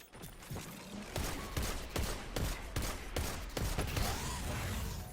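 Rapid, regular shots from the Anarchy weapon in Destiny 2 during a solo Grandmaster Nightfall run as a Warlock: loud repeated blasts about every half second, layered over a constant busy din of in-game combat.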